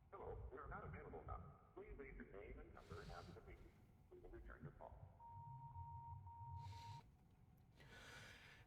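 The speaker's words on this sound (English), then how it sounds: "That's the phone machine thingy." An answering machine in a video game gives a steady electronic beep tone lasting about two seconds mid-clip, with a soft low hum alongside and game sounds and a person talking around it.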